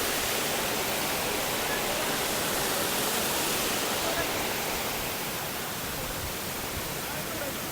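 Waterfall in Penang Botanical Garden, a loud, dense and continuous roar of falling water that stays steady throughout, with no other sounds standing out.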